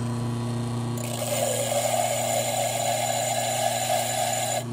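A homemade glass polishing machine runs steadily with a constant motor hum and a grinding whir that starts after a second and holds evenly.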